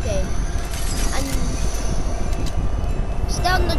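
Train rolling along in the video game Fortnite, a continuous heavy rumble with squealing metallic tones and whooshing passes, while players talk over it.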